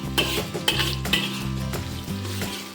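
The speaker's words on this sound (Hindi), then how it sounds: "इनको भी आप थोड़ा सा भून लेना।" Finely chopped green chillies fry in a hot wok for smoky street-style veg chowmein, a loud close sizzle broken by rhythmic metal spatula scrapes and clanks roughly every half second.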